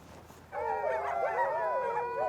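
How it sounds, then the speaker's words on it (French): Sled dogs howling and yipping together in the mountains, a sustained chorus of overlapping high howls that starts abruptly and carries on loud and close. "et même en chien de traîneau."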